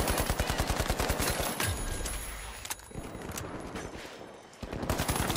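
Rapid automatic AK rifle fire in the shooter game The Finals, loud dense bursts of shots rattling in quick succession, a short pause, then another burst near the end, with no talk.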